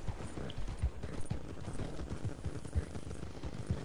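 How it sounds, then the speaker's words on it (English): Horse hooves clip-clop in Red Dead Online, a soft uneven series of thuds at a slow walking pace over a quiet game ambience, with no voices. "Why is my horse going so slow?"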